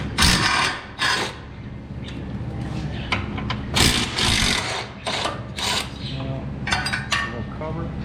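Loosening a bolt with a ratchet while installing Lakewood drag racing shocks on a car, sharp clicking and metallic ratcheting bursts repeating close up, with someone talking over the work.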